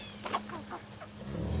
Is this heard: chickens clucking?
yes